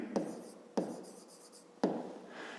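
Pen or pencil writing on paper during a maths exercise, three sharp taps each followed by short scratchy strokes, close and quiet with no talk.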